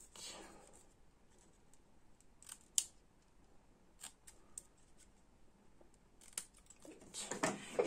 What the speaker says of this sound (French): On va venir le couper en fanion. Donc, d'abord au milieu. Après, tac, sur les côtés.